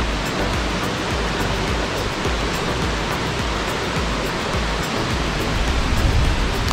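Shallow, clear stream flowing in Lan Sang National Park, a loud, steady broadband rush of running water with no pauses and no voices.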